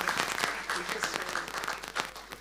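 A medical conference audience claps in scattered, moderately loud bursts, with distinct sharp hand claps standing out over a background of room murmur and some talk.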